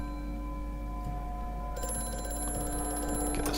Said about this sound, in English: Phone. Where is it?